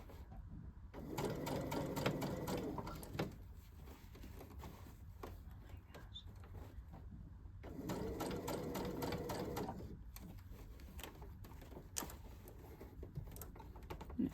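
A sewing machine stitching a jacket sleeve runs in two loud bursts of rapid mechanical chatter, each a couple of seconds long, separated by quieter handling and clicking, no voices.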